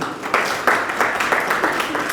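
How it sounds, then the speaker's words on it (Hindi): Audience clapping at a hypnotism demonstration, a steady patter of hand claps with rhythmic surges, fairly close and moderately loud. "एक बार मैं चाहूँगा फिर से ताली हो जाए सभी लोगों के लिए"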